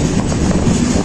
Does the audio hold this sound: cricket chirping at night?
no